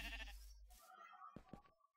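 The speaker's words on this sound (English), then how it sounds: "Hello, sheep." Sheep bleating in the survival video game Lost Island Survival, a few short wavering calls, the last two close and distinct.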